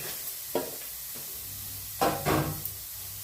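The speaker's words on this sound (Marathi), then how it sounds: "मी पहिल्यांदा थोडा कांदा भाजून घेऊयात" Onion sizzles softly in a pan on the gas stove, broken by a few brief bursts of stirring scrapes, fairly quiet and with no speech.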